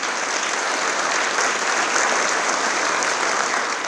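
A school dedication ceremony audience, some seated up in the risers, gives a dense, even round of applause. The clapping is loud and sustained and continues at the same level throughout.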